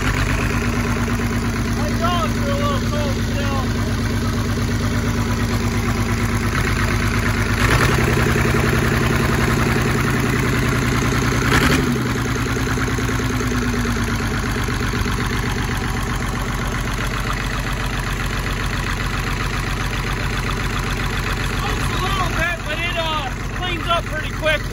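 An Oliver 1850 tractor engine idles steadily and loudly, a little cold, with an even low rumble running throughout while a person talks over it.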